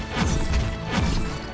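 A sword strikes a pitcher plant enemy in the video game Swordigo, giving two dull, heavy impact thumps about a second apart over a dense, steady game soundtrack.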